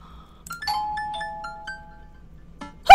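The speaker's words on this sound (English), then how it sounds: "the doorbell rings" An electronic doorbell in the video game Dream Daddy chimes a short ding-dong melody with clear ringing tones, fairly close, followed by an abrupt loud thump at the end.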